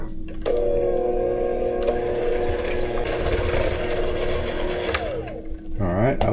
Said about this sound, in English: And we're going to mix till combined.